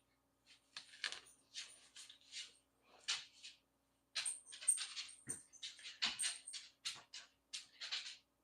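A pet dog, a boy, whimpers and whines in a run of short, soft high-pitched bursts with brief pauses, close by and fairly quiet, with no talking.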